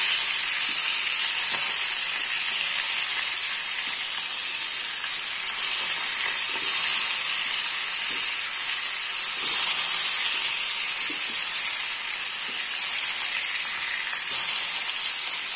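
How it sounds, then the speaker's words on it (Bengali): Pieces of bhola fish frying in a pan, a loud, even, hissing sizzle that carries on without a break, with faint occasional crackles and no talk. "এদিকে আমার মাছটা ভাজা হতে থাকুক"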